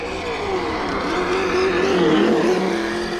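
Electric Traxxas Slash 2WD OBA VXL RC truck running on grass with a sound module, giving a steady, loud simulated engine drone that rises and falls in pitch as the throttle changes.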